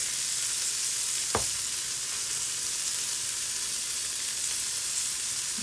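Bay scallops sear in a hot pan with a steady, dense sizzle throughout, joined by one brief sharp clink near the start and no talking.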